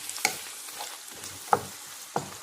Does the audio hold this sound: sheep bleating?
no